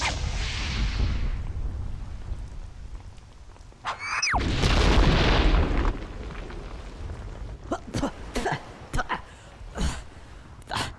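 A Teddy Funken U-47 intercontinental ballistic missile explodes in a Conker video game cutscene: a loud, broad, roaring blast near the middle that fades over about two seconds, with voices speaking before and after it.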